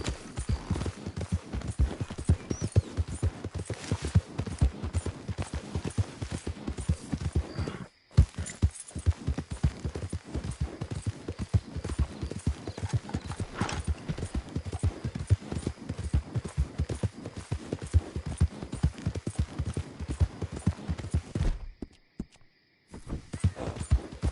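Horse hooves clip-clopping in Red Dead Redemption 2, a fast continuous rhythmic drumming of hoofbeats close up, loud and steady, broken by two brief silences.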